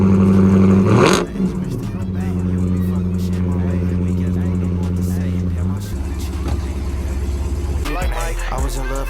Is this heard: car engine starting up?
yes